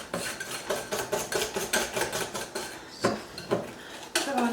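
Muffin batter for chocolate chip muffins is whisked by hand in a bowl, making a fast, steady run of close metallic clinks and scrapes that slows to a few separate taps near the end.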